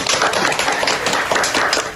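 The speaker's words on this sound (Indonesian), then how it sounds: "Tepuk tangan dong" A podcast audience of classmates claps in applause, a dense, steady patter of many hands close by, sustained for about two seconds without talk.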